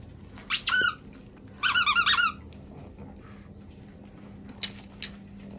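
A squeaky dog toy squeezed in two bursts of rapid, shrill squeaks, then a shorter, fainter burst, close by with quiet background.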